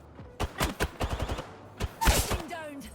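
Video game shooter gunfire rings out in rapid sharp shots, first a steady string and then a second burst, close and punchy, with a player talking briefly in between.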